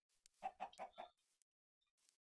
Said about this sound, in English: What the hell is there a chicken down here for?